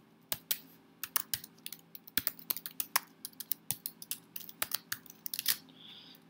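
Code is typed on a computer keyboard in a quiet room: close, crisp key clicks in irregular bursts and pauses, with no voice.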